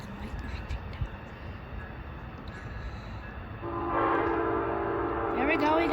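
Amtrak train horn sounding from about midway on, a loud sustained multi-tone blast rising over distant rail rumble and outdoor ambience, with no talking.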